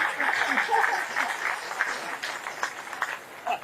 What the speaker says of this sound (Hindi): तो ताली उली बजाओ ना जी।